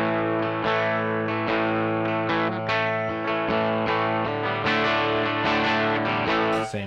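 An electric guitar played on the back pickup through a Laney amp model on a Line 6 HX Effects unit, giving driven, slightly gritty chords and notes in a continuous close phrase with no talking.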